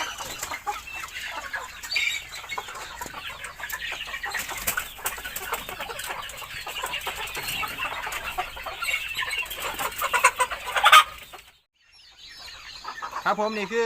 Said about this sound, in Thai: ไก่เยอะมากเลยครับผมนี่ทุกรูปแบบครับผม